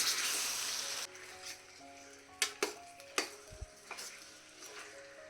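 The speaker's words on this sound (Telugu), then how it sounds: "ఇప్పుడు చికెన్ వేసిన తర్వాత ఒకసారి గట్టిగా తిప్పుకుందాం." Marinated chicken sizzling in a pan as it is stirred, with an initial burst of frying hiss followed by a few sharp spatula scrapes and knocks against the pan, close and without talk.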